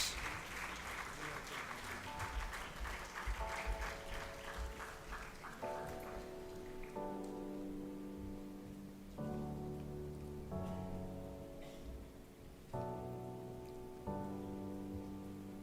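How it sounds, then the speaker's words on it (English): Audience at a book launch giving a round of applause to welcome dignitaries onto the stage, dense clapping that thins out as sustained keyboard or music chords take over. "please give me a big round of applause to welcome our dignitaries on the stage"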